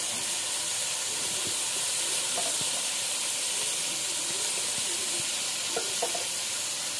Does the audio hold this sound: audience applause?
no